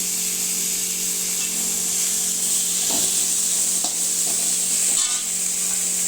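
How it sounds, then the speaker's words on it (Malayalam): A spoon stirs prawn roast masala in a hot pan, with a continuous sizzle of frying under a few soft scraping strokes against the pan, close and steady with no talking. "ഒന്ന് നന്നായിട്ട് ഇളക്കി കൊടുക്കുക"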